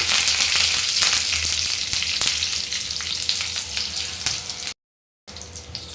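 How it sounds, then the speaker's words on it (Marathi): Curry leaves sizzle loudly in hot oil, a dense crackling hiss that cuts out briefly near the end, then resumes. "तेल चांगलं व्यवस्थित तापलं की आधी आपण यात हे कढीपत्ता टाकूया फोडणीसाठी"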